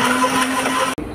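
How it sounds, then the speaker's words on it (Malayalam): A mixer grinder blends milk juice with ice, a steady loud motor whir with rattling for about a second before cutting off abruptly near the end. "എല്ലാ സാധനവും റെഡി മിക്സി സ്റ്റാർട്ട്"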